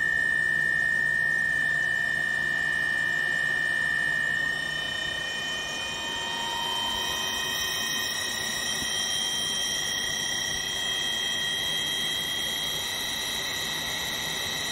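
A three-phase permanent magnet generator spun by a synchronous motor at around 1800 to 1950 RPM gives a loud, steady electrical whine with layered tonal hum, continuous and unbroken, with no voices.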